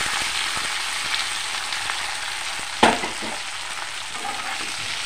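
Jackfruit pieces frying in a pan with pre-fried spice paste, a continuous hissing sizzle with a single clunk of the spatula midway as they are stirred.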